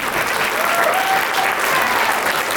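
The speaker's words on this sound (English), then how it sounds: "Please give a round of applause to the bees, the birds, and the squirrels" An audience at a school stage show claps steadily and loudly throughout, a dense, continuous applause with no pauses.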